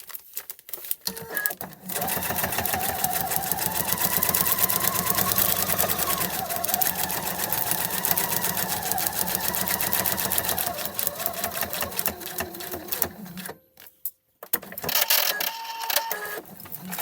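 A sewing machine runs steadily for about twelve seconds, stitching a seam along the connecting line of a foundation-pieced Christmas tree quilt block, then stops briefly before a short second burst.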